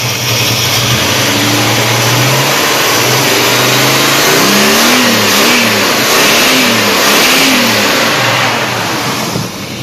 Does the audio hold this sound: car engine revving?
yes